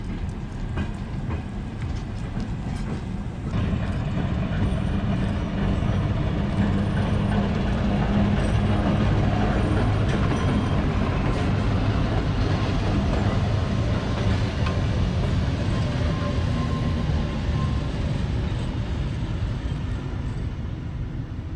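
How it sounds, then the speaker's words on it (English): A freight train rumbles past nearby on an evening arrival in Russia for a long stretch, with heavy low-pitched rolling, rattling wagons and metallic clanks, steady and loud throughout. "The freight train is arriving from Novosibirsk here in the evening."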